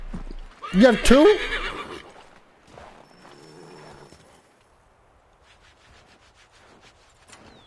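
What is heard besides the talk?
horse neighing and hooves in video game Assassin's Creed III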